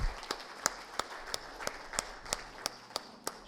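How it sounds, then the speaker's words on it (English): A handful of separate, slow hand claps sound one by one at a steady pace, sparse and fairly faint, at a formal ceremony honoring a chief guest on the dais. "Please give him a big round of applause."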